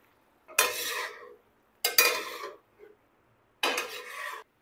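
Liver is stirred and mixed on a hot tawa in three separate bursts of scraping and sizzling, each lasting about half a second to a second, with short quiet gaps between them and no voices.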